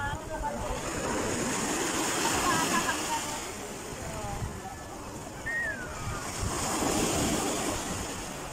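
Ocean waves wash continuously onto the beach at Turtle Cove, a steady surf with wind buffeting the microphone, while voices speak faintly in the background.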